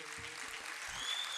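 An audience claps at a Punjabi literary festival, a soft, steady patter of applause heard from a distance.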